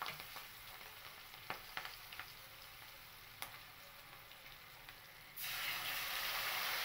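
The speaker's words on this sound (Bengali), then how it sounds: "তার জন্য দিয়ে দিয়েছি এখানে কালো জিরে ফোড়ন আর দিয়ে দেব কয়েকটা চেরা কাঁচা লঙ্কা।" Nigella seeds and slit green chillies fry in hot oil with a steady, soft sizzling hiss and a few sharp crackles. The sizzle grows noticeably louder and denser near the end.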